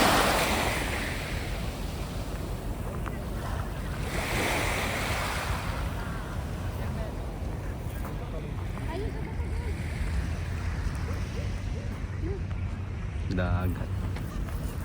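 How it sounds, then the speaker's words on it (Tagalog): Sea waves wash against the coast at Malaga, Spain, heard as a continuous surf rush mixed with gusty wind noise on the microphone, with people talking now and then over it. "Dagat."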